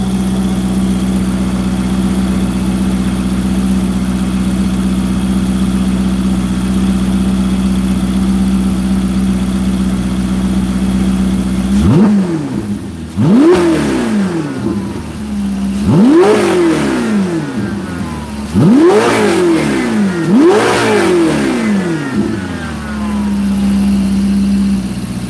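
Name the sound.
Ferrari 488 GTB engine revving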